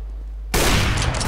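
Gunfire in CS:GO on the Inferno map: after a half-second of quiet background, a loud burst of shots erupts and rattles on in rapid overlapping bangs until the end.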